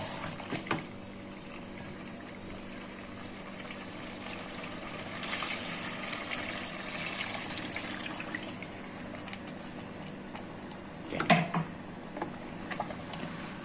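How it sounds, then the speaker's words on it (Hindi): Water pours and trickles steadily into a cooking pot of fried potatoes, a soft continuous splashing with faint clicks in the background and no talking. "अब इसमें पानी ऐड करते हैं।"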